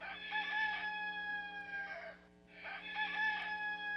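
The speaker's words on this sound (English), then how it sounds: "that rooster's crow, it stands out" A rooster crows twice in succession, each crow long, loud and close, with a brief pause between them and no talk over the calls.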